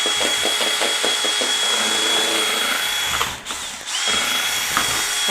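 A power drill runs loud and close, a high steady whine with ratcheting clicks at first, dipping briefly partway through before spinning back up.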